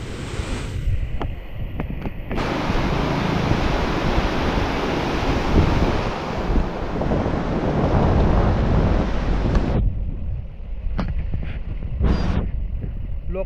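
The flooded Sina river runs high near a tall bridge, making a loud, broad roar of rushing water and wind for most of the stretch before dropping to a quieter rumble with brief knocks at the end.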